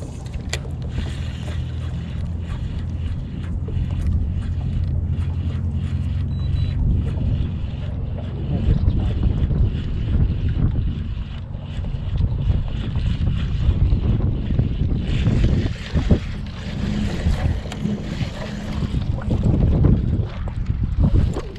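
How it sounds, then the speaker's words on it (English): Wind buffeting a fishing boat while inshore snook fishing off Miami produces a steady, loud roar and microphone rumble throughout, with water and hull noise underneath and no talking. "A little bit of a wind, making it hard to toss in there."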